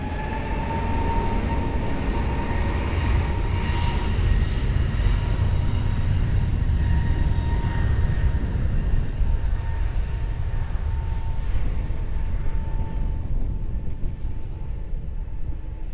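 A Portugal airliner takes off from runway 20 at Lisbon Airport, its engines a steady, loud, broad roar that holds throughout with no voices.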